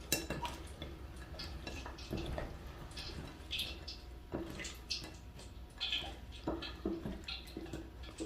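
Shrimp are stirred into a marinade in a bowl for crispy fried shrimp, giving soft wet squelches and light clinks of a utensil against the dish, faint and close, in irregular bursts with no talking.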